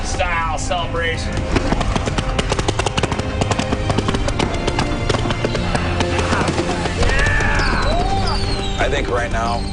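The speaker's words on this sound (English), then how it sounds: "That's a lot of fireworks." Dense celebratory fireworks popping and crackling continuously in rapid bursts during a boat celebration, with whistling rockets and loud shouting voices mixed throughout.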